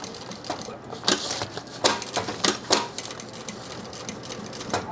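A sewing machine stitches a drop liner tote in short rhythmic bursts of rapid needle clatter, stopping and starting, close and clear, with no talking.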